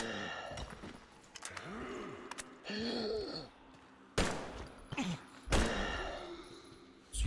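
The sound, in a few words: gunfire in the video game Metro Exodus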